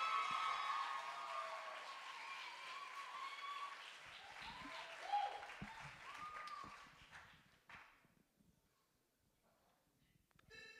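Audience applause at a stage event, a dense wash of clapping that is loud at the start, then thins and fades away over several seconds into near quiet.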